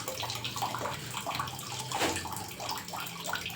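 Water sloshes and splashes in a bowl where puri are left to soak, a quiet, irregular wet swishing with soft gurgles, heard alone and close.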